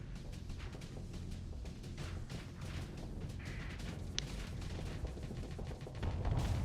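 Missiles fire from the Venture ship in a video game, a steady rumbling barrage of launches and blasts that stays dense and fairly even, with a heavier swell near the end.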